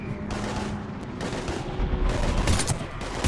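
Sci-fi gunfire in Mass Effect 3, a loud steady stream of shots and impacts that grows more intense toward the end over constant combat din.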